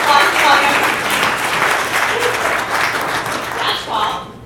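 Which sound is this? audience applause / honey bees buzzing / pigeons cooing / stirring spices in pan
audience applause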